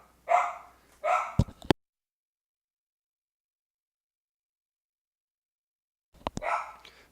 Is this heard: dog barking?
yes